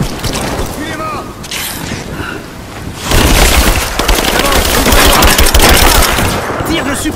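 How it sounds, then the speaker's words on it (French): Sustained automatic gunfire in Rise of the Tomb Raider combat, a loud dense burst of rapid shots that starts abruptly partway through and keeps going, following quieter rustling and scattered sounds. "Tir de suppression."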